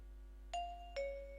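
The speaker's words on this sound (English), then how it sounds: "If you want to see them, then you can ring their bell." A two-tone electronic doorbell chime from the video game Anime Life Simulator, ding then dong, clear and close over a low steady hum.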